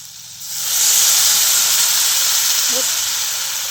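Water poured into a hot kadhai bursts into a loud, steady steam hiss that swells quickly and holds, with a brief voice heard faintly near the end.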